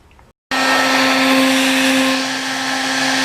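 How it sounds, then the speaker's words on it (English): Handheld hair dryer switches on abruptly and runs as a loud, steady whirring blow with a constant motor whine, used to warm rubber parts while fitting Mikuni carburetors to a Yamaha RD400 motorcycle. "having a hair dryer just before you put the parts in"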